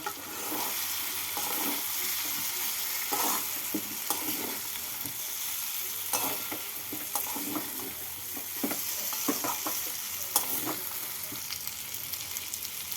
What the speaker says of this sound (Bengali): মশলার সাথে ভালো করে নাড়াচাড়া করে নিচ্ছি